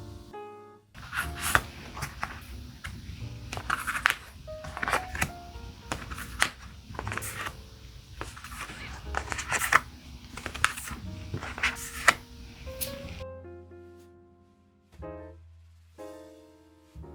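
Tarot cards are gathered and tidied on a table, giving a long run of dense rustling, sliding and tapping close by. It stops abruptly near the end, leaving soft background music with a few sparse notes.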